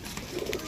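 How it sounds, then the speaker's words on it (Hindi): A pigeon coos softly in a short, low burst of a few throaty notes, fairly close against a background hum. "लट्ठा नहीं ये उड्डण वाला कबूतर है"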